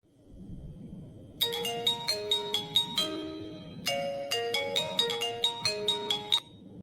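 A mobile phone rings with a bright melodic ringtone, a repeating chime pattern that plays loud and close, pauses briefly, then starts over against a faint background.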